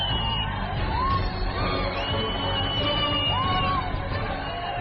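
A large audience cheers and whoops with shouting at a Uyghur talent show, a continuous loud crowd roar with rising voices over steady noise.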